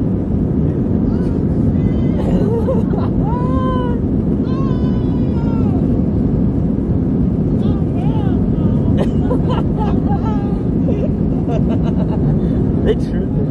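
An Airbus A321 cabin during a Spirit Airlines takeoff roll fills with a loud, constant low roar and rumble, while voices chatter and exclaim over it throughout.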